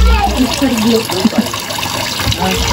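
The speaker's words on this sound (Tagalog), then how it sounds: "Walang tigil ang tulo." Mountain spring water pours without stopping from a tap in a kitchen, a continuous splashing gush heard close by with people talking over it.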